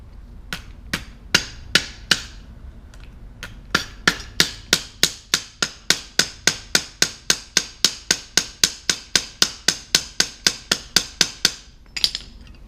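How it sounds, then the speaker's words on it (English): A hammer strikes wire on a hard surface to flatten it for a homemade ice fishing tip-up, giving sharp metallic blows, a few spaced out at first, then a steady run of roughly two per second, close and loud. "So I'll go ahead and hammer this side now"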